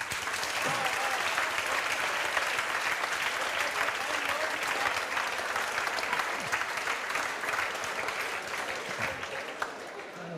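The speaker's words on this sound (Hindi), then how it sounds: "थोड़ा ताली ना ज़्यादा देर बजाते हैं आप लोग" An indoor audience at a student felicitation ceremony at a coaching institute branch in Jhajjar claps in sustained, dense applause that continues evenly throughout.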